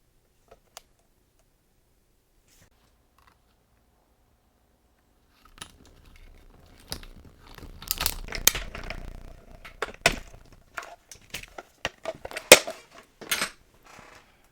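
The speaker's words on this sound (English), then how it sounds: "then I'm going to cut this out" Scissors snip through Stampin' Up! card stock pieces for a Sweet Little Stockings card, a run of close, crisp cuts and paper rustles starting after several seconds of silence, with no talk.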